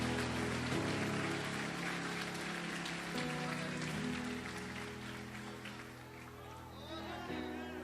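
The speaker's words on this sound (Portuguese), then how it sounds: "Aplauda ele aqui nesse lugar." A church congregation claps during an evangelical worship service, steady dense applause like rain under a preacher's voice and background music.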